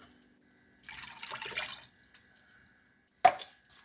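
Coconut milk poured into a pot of vegetable broth and water, a short liquid pour lasting about a second, followed by a sharp clink a moment later.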